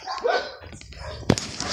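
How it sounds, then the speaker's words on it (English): A jealous dog barks in short bursts, with a sharp loud yap near the end; the sound is close and mixed with a little background noise. "a jealous dog, you know."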